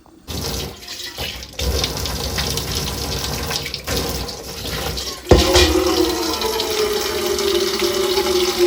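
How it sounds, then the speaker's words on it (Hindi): Tap water runs steadily into a container at home, collecting water for cooking; a continuous close splashing stream with a brief pause, then a fuller, louder gush as the vessel fills. "खाना बनाने वाला पानी सबसे पहले भर के रख लेंगे।"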